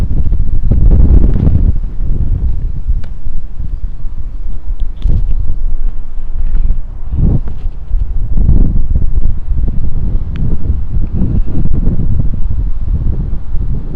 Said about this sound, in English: So let me try to get out of the wind here.